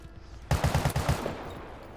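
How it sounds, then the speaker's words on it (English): Machine gun fire in the modern multiplayer first-person shooter World War 3: a quick burst of about seven evenly spaced loud shots, close and punchy, fading into a brief rumbling tail. "I've got a machine gun."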